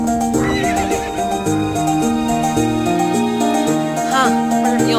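Two shrill horse whinnies ring out, one early and one near the end, over loud melodic music in the game To the Moon.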